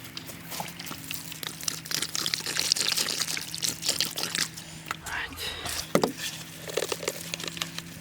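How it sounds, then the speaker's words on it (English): Water poured into a hole around a suction probe being installed in soil, giving a continuous splashing trickle with crinkling handling noises and a sharper knock near the end. "okay, and then I'm going to pour more water in here."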